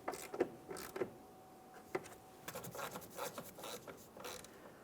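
Ratcheting and clicking as tail light mounting bolts are snugged up on a 2002-2006 Honda CR-V, a series of short, close mechanical bursts with pauses between them, no talking.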